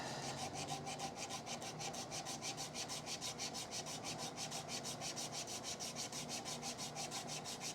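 Eighty-grit sandpaper rasps steadily against a cherry wood yarn bowl, a rhythmic, evenly pulsed scratching that continues without pause, faint and close with no talking.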